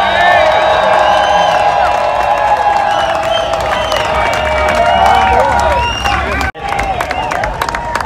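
A big race crowd at a Trans-Am street-course event in Nashville cheers, whoops and applauds continuously and loudly, with an announcer-style voice over the roar and a brief drop near the end.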